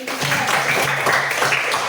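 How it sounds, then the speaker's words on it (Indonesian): A class of students claps briefly in a teaching session for about two seconds. The sound is a dense, steady patter of hands with faint voices underneath. "Tepuk tangan untuk semua dulu."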